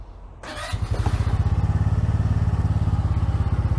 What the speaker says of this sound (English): So, start the bike up.